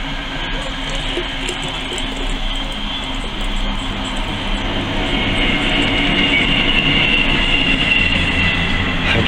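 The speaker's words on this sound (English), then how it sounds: "The trains are getting on my nerves." A train rumbles past nearby with a steady roar and metallic rail noise, growing slightly louder toward the end.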